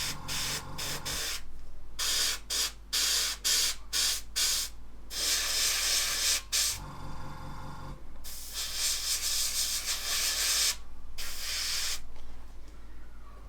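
An airbrush sprays a model paint wash in hissing bursts, short rapid puffs at first, then longer steady sprays, all over a continuous low compressor hum.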